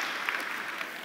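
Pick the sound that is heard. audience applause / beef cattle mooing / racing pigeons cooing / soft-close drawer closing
audience applause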